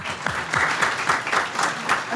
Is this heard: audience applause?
yes